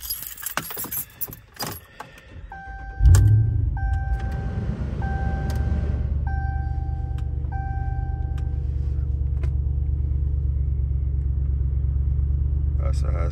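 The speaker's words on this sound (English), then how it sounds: "That's how it sounds on the startup." A 2017 RAM 2500 Big Horn HD pickup starts up after keys jangle and chimes sound from inside the cab: the starter catches abruptly and settles into a deep, steady diesel idle rumble, heard up close.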